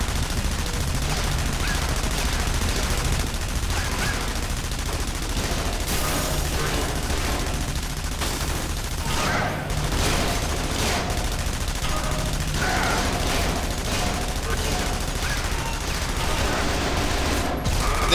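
Gunfire in the co-op stealth game Splinter Cell: Conviction, rapid overlapping automatic bursts and single shots rattling continuously for many seconds, with mechanical clatter and occasional talk underneath.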